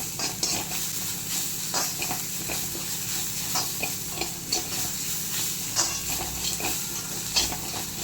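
Ginger garlic paste sizzles in a hot pan while being stirred for a mutton lung curry, with a steady close fry hiss and scraping stirs and light clinks throughout, no talking.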